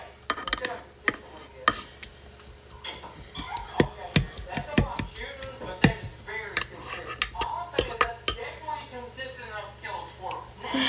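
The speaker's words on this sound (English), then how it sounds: "I'm just going to go back in and mix it all up together" A utensil stirring and mixing food in a pot during home cooking of a New Year's supper, heard as scattered sharp clicks and scrapes against the pot under steady talking.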